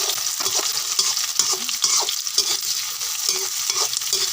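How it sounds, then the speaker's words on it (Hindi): Chopped onions frying in a pan for chicken liver curry, a constant close hiss of sizzling oil broken by regular scraping and stirring strokes, loud and steady with no voices. "हमने डाल दिया प्याज। इसको थोड़ा भून लेते हैं।"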